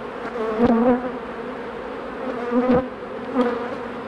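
Honey bees hum steadily around an opened hive during an inspection of brood comb, a close, continuous buzz with individual bees swelling louder as they pass near.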